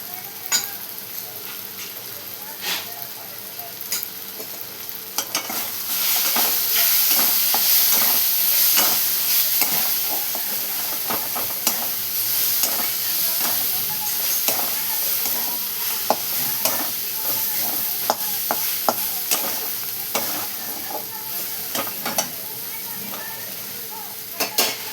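Onion frying in a pan with turmeric and red chili powder for egg bhurji: a continuous sizzle with repeated scrapes and taps of a stirring spoon, close and steady throughout.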